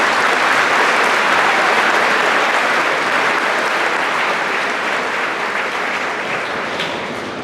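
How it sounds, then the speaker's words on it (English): A large crowd applauds at a high school graduation ceremony, loud and continuous with a thick wash of clapping that eases slightly toward the end. "So let's give them a round of applause."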